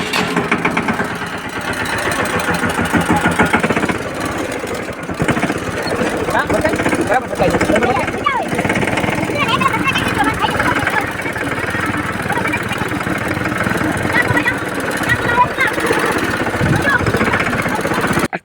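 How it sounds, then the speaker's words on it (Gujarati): A farm tractor engine runs steadily in a village cattle yard, a loud, continuous mid-pitched drone throughout, with people talking over it. "હવે હાલો ઓલું બીજું ટ્રેક્ટર લઈ લે અંદર."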